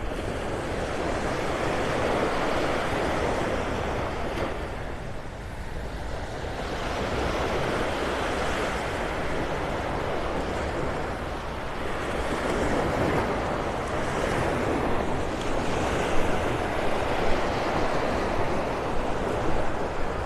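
Surf and wind on Vanderbilt Beach in North Naples, Florida, a continuous broad roar with waves swelling and easing, gusts buffeting the microphone, and no voices.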